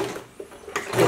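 A domestic sewing machine running a gathering seam on a dress, heard close as short mechanical whirring bursts that build into a louder, steadier run at the end.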